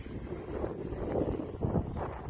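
A Piper model airplane drones steadily overhead on its maiden flight, a continuous engine hum mixed with wind noise, moderately distant, with no talk.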